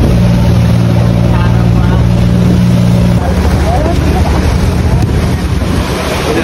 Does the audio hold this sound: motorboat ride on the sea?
yes